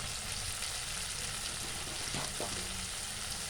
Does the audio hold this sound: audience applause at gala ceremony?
no